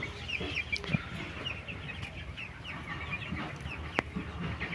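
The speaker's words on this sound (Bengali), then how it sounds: "কত মুরগি বাচ্চা দেখুন।" Chickens and chicks in a poultry coop cluck softly and continuously, with scattered higher cheeps and a few sharper peeps over a low, even background.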